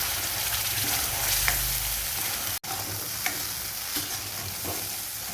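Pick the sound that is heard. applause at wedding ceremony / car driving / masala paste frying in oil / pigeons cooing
masala paste frying in oil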